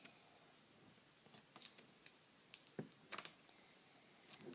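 Scissors snip washi tape close by in quiet, small sharp clicks and cuts, scattered irregularly with a brief flurry in the middle.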